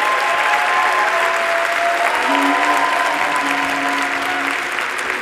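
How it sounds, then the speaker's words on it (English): Sustained applause from a graduation ceremony audience for engineering graduates, a steady dense clapping crowd filling the hall throughout, with faint murmurs beneath. "Please join me in a round of applause for the graduates."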